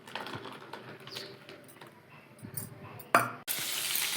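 Coconut paste tipped into a boiling masala for a fish curry and stirred, soft sizzling and scraping that swell into a sharp splash of frying around the three-second mark, then continue loud and bubbling.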